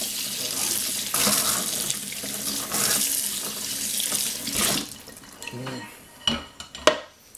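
A kitchen tap runs steadily into a sink as a bowl is washed up, the water flow rushing for several seconds before breaking into splashes and a few clinks of crockery near the end.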